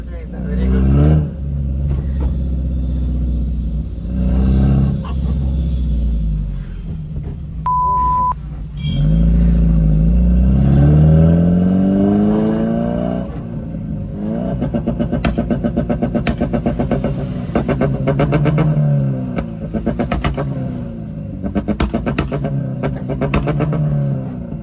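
Modified Honda City engine revving hard and accelerating, loud and close, with deep rumbling bursts and rising pulls through the whole stretch, while people talk and cheer excitedly over it.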